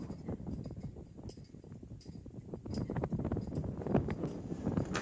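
A horse moving its feet about during groundwork, with a rapid irregular patter of hoof clops on the ground close by over constant wind noise.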